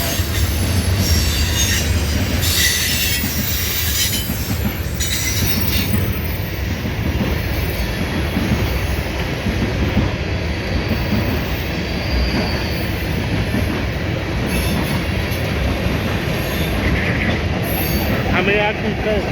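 CSX freight train led by the Western Maryland heritage locomotive slides past Point of Rocks station, a loud continuous rumble of wheels and rods with squeals, clanking and clickety-clack, close by, with occasional voices under the noise.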